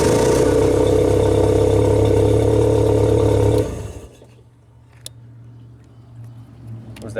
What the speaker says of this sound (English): So key on and then crank it.